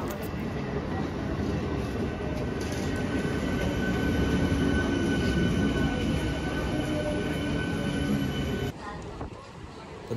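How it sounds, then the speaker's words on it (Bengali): A Howrah–Bardhaman local train running, a loud continuous rumble and rattle of carriages on the rails that drops off sharply near the end. "তো হাওড়া থেকে বর্ধমান লোকাল ট্রেন আসবে, ওই ট্রেনে করে আমাকে যেতে হবে।"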